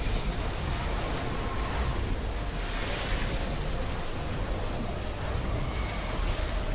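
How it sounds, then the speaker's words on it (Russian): Waves wash through a level of the video game Mortal Shell, a dense, even roar of surf noise that stays constant and fairly soft, with no voices over it. "Так, проходим сквозь волны"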